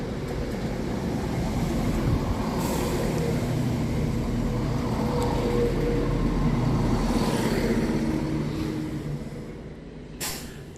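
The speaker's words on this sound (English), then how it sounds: "Next in to arrive is 17415 with the 1858 Scotrail service from Arbroath to Edinburgh Waverley." A ScotRail passenger train from Arbroath pulls into Edinburgh Haymarket station with a steady, loud rumble and hiss that fades in the last seconds as it settles.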